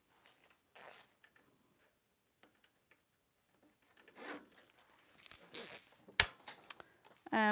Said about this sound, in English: We're going to need our zipper for the top.